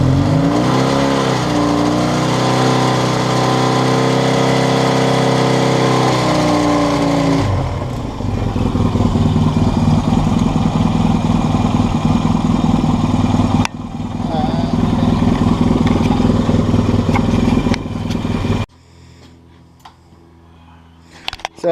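A Yamaha XS650 motorcycle fitted with a PMA CDI ignition kit idles loudly with a lumpy, throbbing beat. Its engine is then revved up toward 4000 rpm in rough, uneven surges, and finally the engine cuts to near silence.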